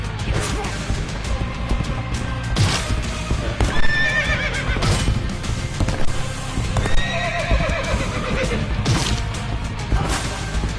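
Horse in a video game whinnying and clip-clopping, hoofbeats trotting steadily alongside bursts of neighing and a few thuds, loud and close with game music beneath.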